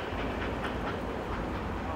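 A Norfolk Southern freight train with a Ferromex locomotive rolls past in Somerville, Ohio, a steady close rumble with faint rail clatter running throughout, with no gaps or quieter moments.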